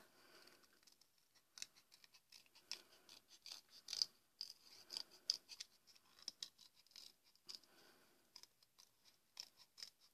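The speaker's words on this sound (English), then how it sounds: "Now we will need to cut this template with a pair of scissors." Soft, irregular snipping and rustling of scissors working through paper, fairly quiet and close, with small pauses between cuts and no talking.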